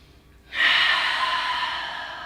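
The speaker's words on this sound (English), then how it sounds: "take a deep breath in. And a deep breath out." A deep breath during a beginner backbend yoga session, one long, airy, breathy exhale starting abruptly and fading slowly, close and fairly loud with no talk.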